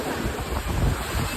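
Sea waves wash up onto the beach at Shivrajpur in a steady, broad roar of surf, with wind buffeting the microphone throughout and no voices heard.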